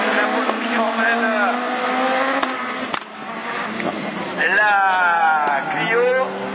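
Super 1600 rallycross race cars, including a Renault Clio and an Audi, race at Lessay in Manche, engines revving loudly and rising through gears with tire noise as they pass, over continuous commentary.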